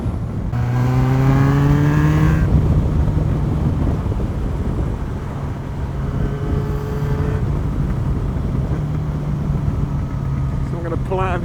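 A motorcycle pulls out and accelerates, its engine note climbing through rising revs in repeated sweeps before easing off and building again; loud and close, with a brief sharp sound near the end and no clear talk.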